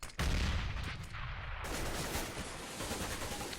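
Mag-7 shotgun fire during a competitive Counter-Strike match on Inferno, heard as a sharp in-game blast followed by dense, continuous gunfire and game noise with no talk.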